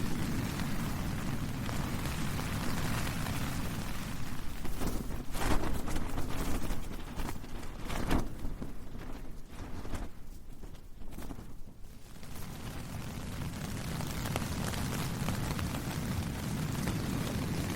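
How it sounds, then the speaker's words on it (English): Steady rain falling outside in the Cairngorms, a continuous dense hiss and patter that carries on unbroken at moderate loudness, briefly thinning in the middle before filling back in. "it's still raining"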